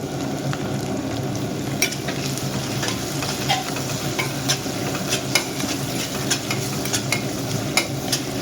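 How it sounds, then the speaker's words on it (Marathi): Onion fries in a pan with roasted garlic for a dry prawn and brinjal masala, a loud continuous sizzle punctuated by regular clicks and scrapes of a spatula stirring close by. "त्यात आपण टाकूया कांदा. कांद्याला चांगला लाल करून देऊ."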